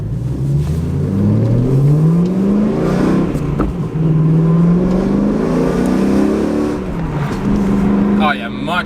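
A BMW E92 M3 with a weighted ZHP shift knob accelerates hard, its engine note rising in repeated climbs broken by quick gear shifts, loud and close from inside the car, with talk over it.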